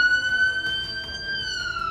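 A SAMU ambulance from Limeira heading out to a call sounds a steady tonal siren, loud and close, its pitch sliding slightly over about two seconds, with no talking.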